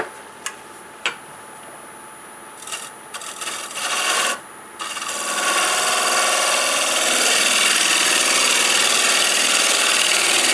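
Wood lathe turning a catalpa bowl blank at about 1200 RPM; a few light clicks and knocks at first, then a loud, steady, close whirring rasp of the cut that fills the rest of the clip.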